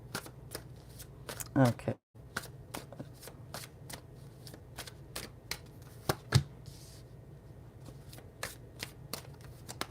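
Tarot cards are shuffled by hand in a repeated series of crisp riffles and taps, close and fairly quiet, with a brief pause, and a voice speaks once.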